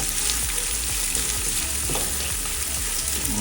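Two medium onions, sliced lengthwise, fry with bay leaves in hot oil for a chicken dum biryani, giving a loud, dense, continuous sizzle close up with faint stirring scrapes and no voices.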